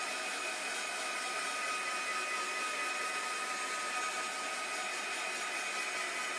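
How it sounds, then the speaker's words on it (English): A heat tool blows steadily while drying matte medium on a craft piece, giving an even, continuous whirring hiss with no pauses and no speech. "Now with the heat tool, you don't want to get too close"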